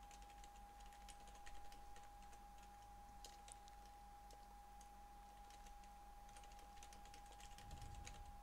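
Faint typing on a computer keyboard, with scattered soft clicks tapping irregularly over a steady electrical hum with no voices.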